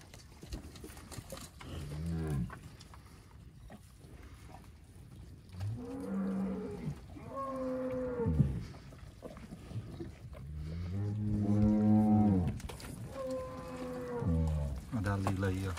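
Cattle on a countryside farm moo repeatedly during morning feeding, with several long, drawn-out calls at close range against faint background noise.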